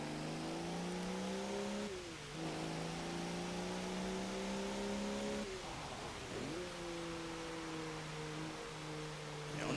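A huge V12 TDI diesel engine in a 2009 Audi Q7 revs loudly in the Forza Motorsport 7 racing game, with a steady droning tone that drops sharply at two gear shifts before climbing and holding again.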